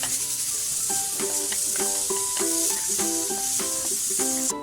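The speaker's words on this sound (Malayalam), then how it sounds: "അതിന് മുന്നേ പൊടികളുടെ പച്ചമണം നന്നായിട്ട് മാറുന്നതിന് മുന്നേ വഴറ്റി കൊടുക്കുക കേട്ടോ" Spice powders sautéing in a pan for Kerala-style beef varattiyathu, giving a steady close sizzle and hiss. Melodic tones play over it throughout.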